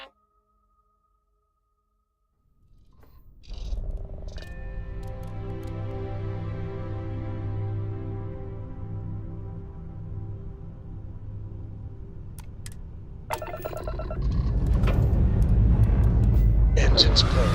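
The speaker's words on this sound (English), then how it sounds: "Engines purring." Spaceship engines in the video game Starfield spin up from silence into a steady humming drone with layered tonal whine, then swell into a louder, rougher roar near the end.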